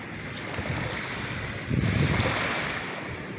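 Pacific Ocean surf at a beach resort in Santa Ana, Cagayan, at the northern tip of the Philippines: a steady wash of waves with wind buffeting the microphone, swelling louder as a breaker rolls in midway.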